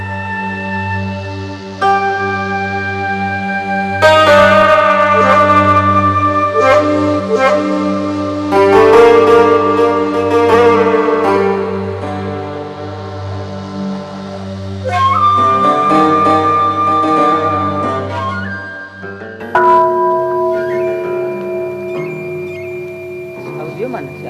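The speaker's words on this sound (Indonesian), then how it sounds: "Bunyi genta pertama pertanda bagi semua umat yang hadir sebagai detik-detik menyambut Waisak" A temple bell, the genta, is struck at a Vesak ceremony, and several loud resonant strikes ring out, each leaving a long sustained tone that fades slowly over a steady low drone.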